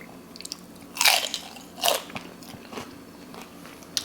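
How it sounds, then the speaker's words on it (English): Loud, crackly crunches come from biting into fried tilapia fish and chips, two sharp bites close to the mouth followed by softer chewing crackles. "I think that crunch said it all."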